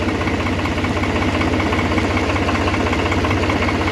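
A Farmtrac 3630 tractor's diesel engine in first high gear, revved to about 1800–1900 rpm, producing a loud, steady, rapid low thrumming knock that holds constant and close throughout, with no talking.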